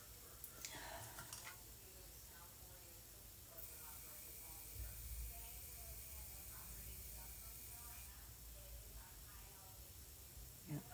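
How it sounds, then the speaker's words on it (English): Makeup setting spray mists onto a face in a steady hiss lasting several seconds, near and fairly quiet, with faint background noise and soft murmured talk around it. "put my spray on"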